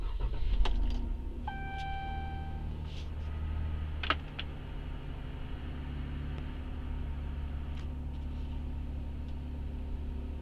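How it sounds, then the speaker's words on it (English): A Dodge Ram pickup engine cranks and catches with a brief whir and beep, then settles into a steady low idle rumble that continues close and even, with a small click partway through. "Start the engine."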